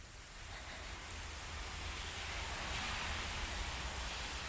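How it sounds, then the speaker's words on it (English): Steady, even rain falling outside a house, a soft continuous hiss with no breaks or distinct drops, heard alone without voices. "it's raining outside"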